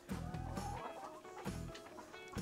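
Layer chickens, about 24 weeks old, cluck in quick, repeated bursts close by, with a steady low background hum underneath.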